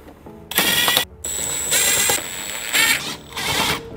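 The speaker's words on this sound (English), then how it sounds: "take that 8mm and remove all of the 8mm screws from underneath the bumper" A ratchet working on the 8mm screws under the front bumper of a BMW F80/F30-series car, giving bursts of rapid metallic clicking separated by short pauses, close and fairly loud.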